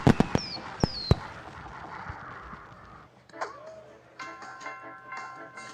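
Pinball machine fireworks effect after a championship win at a pinball tournament final: a few sharp pops and rising whistles up front, then a quieter stretch of ringing electronic chimes and tones from the machine.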